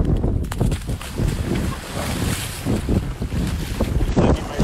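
Ocean waves wash in at a beach under strong gusts of wind buffeting the microphone, a continuous close rumble with surging bursts of surf.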